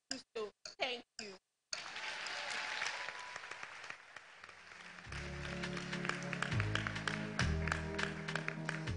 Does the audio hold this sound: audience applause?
yes